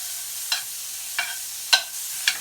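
Butter and oil sizzle in a hot pot while spicy honey garlic lobster cooks: a soft, steady hiss broken by four sharp, evenly spaced spatter pops.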